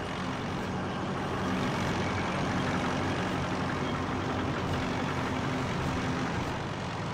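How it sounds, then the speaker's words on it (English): Heavy, steady engine rumble of a T-34 tank being driven in Call of Duty, a dense low drone with a faint tonal hum running continuously and loud throughout, with no voices. "now we're going to drive a tank"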